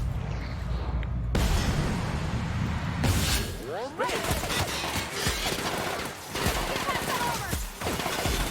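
Gunfire in The Outer Worlds video game, sharp shots and bursts breaking out among game sounds and effects, loud and close, with several distinct cracks spread across the stretch.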